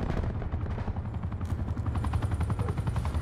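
Chopper scorestreak helicopter firing in Call of Duty Black Ops 4, a dense rattle of rapid gunfire over a steady low rotor rumble, loud and continuous throughout.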